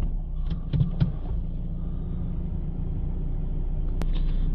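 A Renault Kadjar engine starts and settles into a steady idle, a low continuous rumble heard up close with a few brief clicks near the start and a short sharp tick near the end, with no talking.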